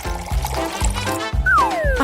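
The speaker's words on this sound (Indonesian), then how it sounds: "Tuangkan ke dalam mesin." Liquid glugs out in rhythmic pulses as it is poured into a machine, with gurgling bursts repeating about every half second, close and fairly loud.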